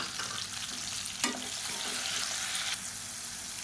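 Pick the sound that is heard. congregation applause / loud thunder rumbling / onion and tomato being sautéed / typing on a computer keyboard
onion and tomato being sautéed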